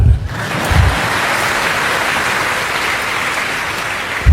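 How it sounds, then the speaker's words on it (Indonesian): Sustained audience applause at a Ramadan lecture held at UGM university in Yogyakarta, a dense steady wash of clapping from a large crowd lasting several seconds, with brief low thumps at the start and end. "Boleh tepuk tangan."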